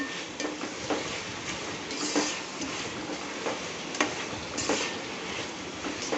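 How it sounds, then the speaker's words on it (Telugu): Tomatoes being stirred in a cooking pot, with repeated scraping and clinking of a utensil against the metal at an irregular pace, close and moderately loud over a steady background hiss. "బాగా టమాటో వేసి కలుపుకుందాం"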